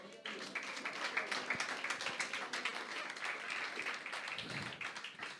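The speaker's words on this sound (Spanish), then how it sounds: "denle un aplauso a Dios, por favor" Church congregation at a Spanish-language Christian service claps together in a dense, uneven round of applause, moderately close and sustained for several seconds before tapering off.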